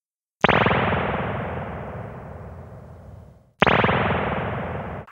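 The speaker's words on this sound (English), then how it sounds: "If we listen now to a spring, it's very different." Two sharp metallic hits each bloom into a long, twangy, splashy reverb tail that rings and decays; the second is cut short as it begins.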